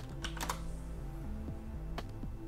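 Close computer keyboard typing as a Google search is entered: a short burst of several quick key clicks, then a couple of separate taps, with a steady background hum.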